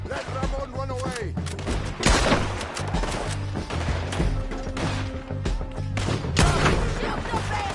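Gunfire in the video game Red Dead Redemption 2 during a shootout, repeated sharp shots and bursts scattered across the fight, loud and close, mixed with game music and shouting voices.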